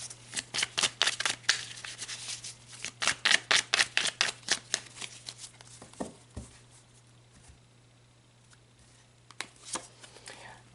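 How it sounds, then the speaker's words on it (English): Tarot cards being shuffled in quick, crisp riffling bursts, then a pause and a few single card snaps as cards are pulled, close and clear over a faint steady hum. "let's pull a couple of cards to just get a few more highlights for the"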